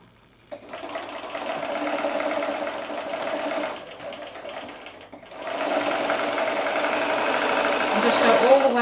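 A sewing machine stitches along the folded edge of a fabric gift bag: a close, steady mechanical whir in two runs with a brief pause between them, and the second run is louder.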